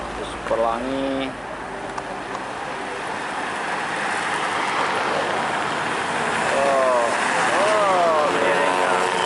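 A Pelangi intercity bus rumbles around a slanted road bend, its engine noise building and growing louder toward the end, with traffic sounds around it and people talking over it.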